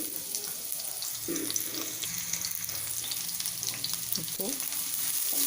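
Chopped onion frying in hot oil in a pan for homemade egg fried rice, a bright steady hiss of sizzling close by, with a few stirring scrapes and a brief spoken word over it.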